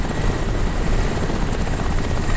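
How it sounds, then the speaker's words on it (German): In the shooter Crysis, a helicopter thunders loud and close, its rotor and engine drone holding steady and unbroken throughout with no voices. "Ach, verdammt, der Heli."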